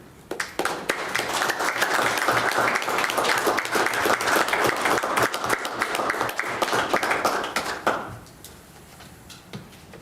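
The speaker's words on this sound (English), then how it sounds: "as you give a round of applause, Courtney Rossenberger, Tammy Rosichka, and" A crowd at a city commission meeting applauding steadily for several seconds during an award presentation, dense clapping that fades out near the end, leaving a few scattered claps.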